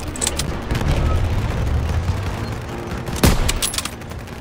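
Sustained World War II battlefield gunfire rattles in a Call of Duty WWII street fight, with dense overlapping rifle and machine-gun bursts and a sharp louder shot near the end; shouted voices come faintly through the din.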